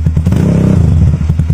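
Motorstar Explorer 250 motorcycle fitted with a Yoshimura Alpha full carbon exhaust, running without its silencer, makes a brief, loud, close rev: a steady, throaty, pulsing engine note that swells slightly and then eases off.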